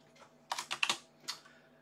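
Typing on a mechanical keyboard: a short burst of sharp, clicky keystrokes, several quick presses in a loose rhythm with a pause before one more cluster, close and moderately quiet with no talking.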